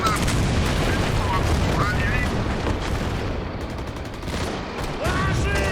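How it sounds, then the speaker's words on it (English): Tank cannon fire in the Steel Fury video game alongside a BT-5 Mod. 39 light tank, heavy booms and gunfire blending into a dense, continuous roar of battle noise. "That was the tank shooting at me, let's fire back."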